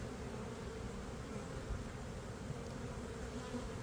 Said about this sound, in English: Bees fly back